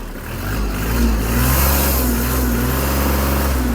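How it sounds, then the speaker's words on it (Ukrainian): A Kubota KL-23 mini-tractor's small diesel engine idles, then revs up and holds at a higher, steady pitch, loud and close by. "Добавимо газу."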